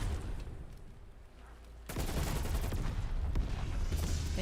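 A war machine weapon firing in a video game: a sudden loud burst of dense, continuous gunfire and explosive blasts starts about halfway through and keeps going to the end, following a quieter rumbling stretch.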